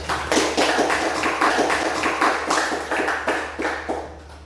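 Students in a classroom clap steadily during a teaching-practice lesson, the claps even, evenly spaced and fairly close, with no talk over them.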